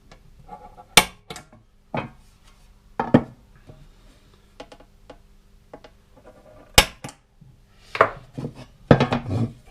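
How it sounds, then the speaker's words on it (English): Centre punch struck with a hammer to mark drilling spots on a fiberglass seat pan for an XS1100 cafe racer, giving a series of sharp, irregularly spaced metallic taps, close and loud, with quieter handling clatter between strikes. "So I will start by centre popping those spots."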